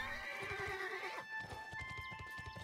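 A horse in the online game Bless Online gallops with steady clip-clop hoofbeats and lets out a loud whinny, the neigh fading after the first second while hooves continue up close.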